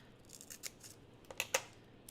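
A pair of tiny craft scissors gives a few light, crisp snips and clicks close by, with two sharper cuts near the end in an otherwise quiet room.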